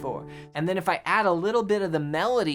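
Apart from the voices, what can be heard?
No everyday noise stands out behind the speech.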